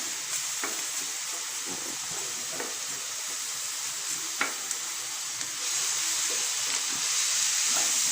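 Sausages and vegetables fry in a pan for spaghetti, a steady close sizzle with occasional stirring taps and scrapes, the hiss growing louder toward the end, no talking.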